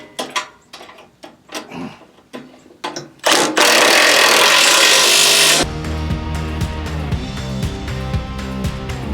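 Impact wrench driving 5/8-inch bolts onto a tractor bucket plate: scattered tool knocks first, then a loud sustained hammering burst that gives way to a steady buzzing mechanical run.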